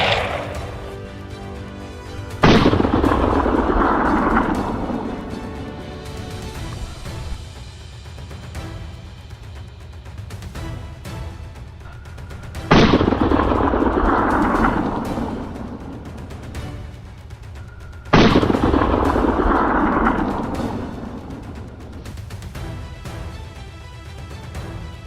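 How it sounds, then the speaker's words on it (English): Three sharp gunshots during a wild boar hunt on farmland, each a sudden loud crack with a rumbling tail, spaced irregularly over a steady background with no talk. "The gunshot rang out, instantly causing chaos."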